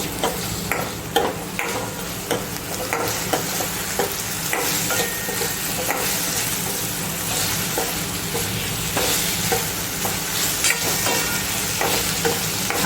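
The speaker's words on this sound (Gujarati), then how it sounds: "આપણે એકદમ મિક્સ નથી થવા દેવાના, થોડા પોચા પડે ત્યાં સુધી સાતળવાના છે" Kathiyawadi-style papad and corn with salt sautéing in a pan: a continuous close sizzle broken by frequent scraping clicks as a spatula turns the mixture, with no voices.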